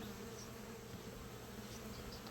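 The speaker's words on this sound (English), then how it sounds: "you can see the bees are getting angrier and angrier, and they're just buzzing around me like crazy" Angry honey bees swarm around an opened hot hive, making a dense, continuous buzzing drone that stays close with no talk.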